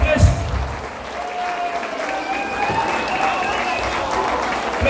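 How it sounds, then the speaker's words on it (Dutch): An audience applauds at the 2019 CME Awards' Male Artist of the Year presentation, a country music award show, the clapping steady and broadband for the whole stretch, with a voice speaking over it at moments. "Er mag best een applaus voor komen."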